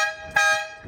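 A single loud, sustained blaring blast from a 12V electric air horn mounted on a vehicle, harsh and tonal, lasting under a second.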